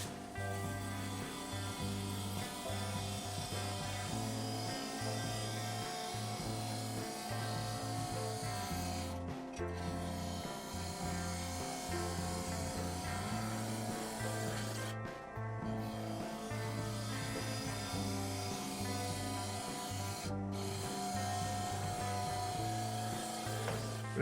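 A turning tool cuts apple crotch wood spinning on a lathe, a steady scraping rub over a low pulsing motor hum, with a few brief pauses in the cut.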